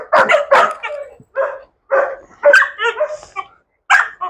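Several dogs, Malinois among them, bark in sharp, repeated bursts with yips and whimpers mixed in, loud and close, cutting out briefly between flurries.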